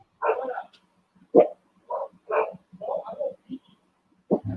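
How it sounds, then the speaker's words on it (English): Several dogs bark and yip in short, irregular bursts, fairly close, with gaps of quiet between them. "dogs are going off because my family just got back"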